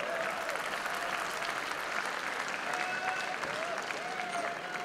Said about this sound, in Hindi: अब आपकी तालियां थमें